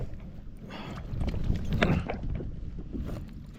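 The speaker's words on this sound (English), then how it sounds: "I was not expecting the wind to be blowing like it was, or like it is right now." Wind gusting across an open Kentucky lake, rushing and buffeting steadily around a small boat on the water, swelling in the middle and easing off again, with no talk.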